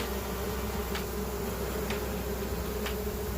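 Honey bees fanning at the entrance of a hive after a swarm recapture, a continuous close drone of wings with three faint ticking knocks spaced about a second apart.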